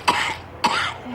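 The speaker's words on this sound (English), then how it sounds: "it's a little difficult to tell with you coughing like that" Two sharp coughs from one person, close and fairly loud, spaced about half a second apart, inside a prison cell.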